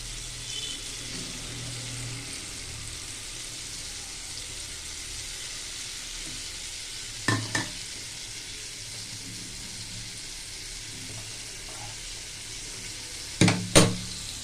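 Palm fritters (taler bora) fry in a kadai of oil with a soft steady sizzle and bubbling, interrupted by a few brief clattering knocks.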